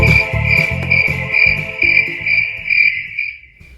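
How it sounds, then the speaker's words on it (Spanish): A cricket chirps loudly and close up in a steady series of regular pulses, with no other sounds, fading out at the end. "El grillo canta alegremente"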